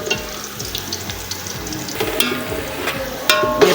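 Onions frying in a pan until golden for chana pulao, a steady close sizzle running throughout with a few sharper crackles and utensil clinks near the end, no voices.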